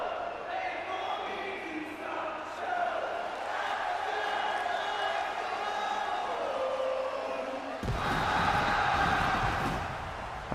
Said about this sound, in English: As the crowd also sing Rhodes into this one.